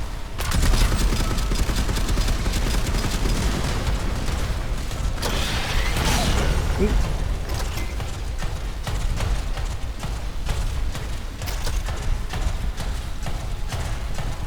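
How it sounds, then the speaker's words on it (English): Mines firing and exploding in the video game Warframe, a dense, continuous clatter of mechanical bursts and pops with no pause, loud and busy across the whole stretch. "this lets you shoot out a bunch of mines that kind of like explode as you run around"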